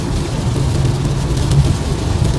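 Steady rain at night on a bridge near Vancouver Airport, a constant hiss with a low rumble of traffic underneath.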